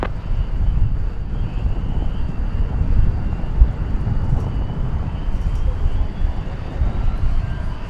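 Envoy jet airliner taking off at DFW Airport, a loud steady engine roar with wind rumble, sustained throughout with faint radio chatter beneath.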